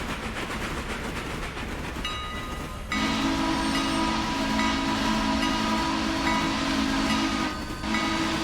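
In the Railroader train simulator, a Mikado steam locomotive rolls along with a continuous rumble, then its wheels break into a loud, sustained, high-pitched flange squeal through the curves that holds for several seconds with brief dips.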